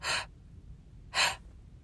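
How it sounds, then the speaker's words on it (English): Two deep breaths drawn in through the mouth into the belly during a meditation exercise, each a short breathy gasp about a second apart, close and fairly soft. "you breathe in through the mouth, going into the belly."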